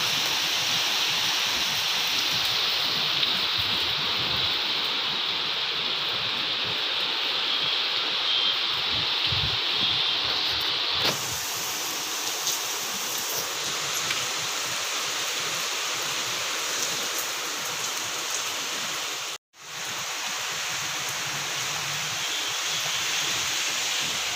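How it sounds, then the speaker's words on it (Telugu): Strong wind roars as a steady, broad rush for the whole stretch, shifting slightly in tone partway through and dropping out for a moment before returning. "గాలికి డోర్ ఎత్తేసుకుంటుంది. చూడండి గాలి ఎలా వస్తుంది."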